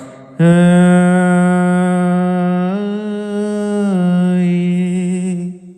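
A sustained, loud melodic line with rich harmonics plays through small speakers, shifting pitch a couple of times, with no talking.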